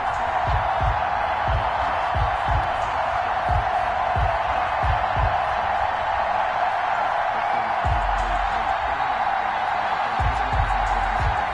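Stadium crowd noise in an EA Sports NFL video game before a Giants versus Cowboys kickoff, a steady roar with cheers and a commentator talking over it.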